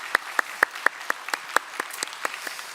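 A church congregation applauding the choir at a Wednesday worship service, with a steady round of separate claps at an even pace that fades slightly toward the end, heard alone with no voices.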